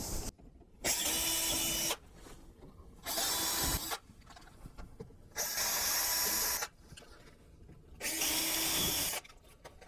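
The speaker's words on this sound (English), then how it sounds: "I'm just going to drill some pilot holes into the sides of the frame" A power drill drilling pilot holes into the sides of a shutter frame whirs in four steady bursts of about a second each, with quiet gaps and faint handling noise between them, close by.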